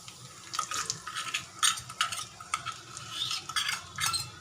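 Gram flour roasts in a little hot oil over a low flame while a spoon stirs it, making close, uneven bursts of scraping and soft sizzling for several seconds.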